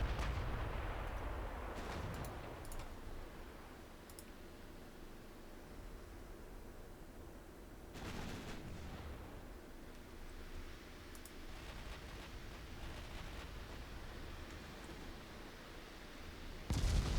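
Naval gunfire in the warship game Ultimate Admiral Dreadnoughts: distant, muffled booms of guns rolling over a steady hissing sea-and-wind background, with a heavier blast near the start and another near the end, faint overall.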